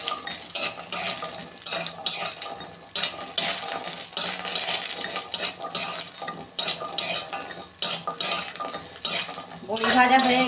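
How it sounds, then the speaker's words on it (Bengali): Lentil dumplings (bori) frying in oil in a home kitchen pan, loud busy sizzling with repeated sharp scrapes and clinks of a spatula stirring against the pan, plus a brief running-water sound near the end. "সবজিগুলো ভাজবো, বড়িটা আমি ভেজে নেব।"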